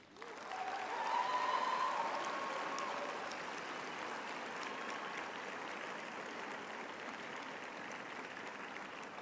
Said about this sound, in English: I would now like to ask our graduates to applaud their families, friends, and spouses for the support over these many years.